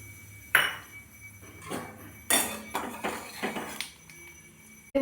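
Metal utensils clink and tap against cookware in a home kitchen as fried eggs are lifted one by one into another pot, bringing a series of bright, separate knocks and chinks at close range.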